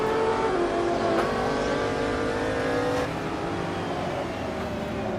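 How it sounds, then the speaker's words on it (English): A Nissan race car engine in a 1960s racing video game at Kyalami screams at high revs, loud and sustained with shifting pitch, dropping slightly in intensity partway through. "Listen to that Nissan scream."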